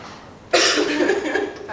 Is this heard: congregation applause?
no